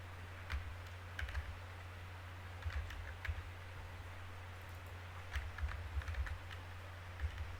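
Quiet bursts of key presses on a computer keyboard while data is entered into a database program, clustered in short runs of clicks over a steady low hum.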